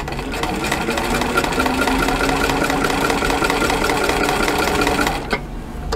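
A sewing machine stitches quilt pieces for a strawberry basket quilt, running in a steady, fast, close whir for about five seconds before stopping abruptly.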